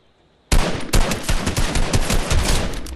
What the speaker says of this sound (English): it sounds like the gunshots are actually over here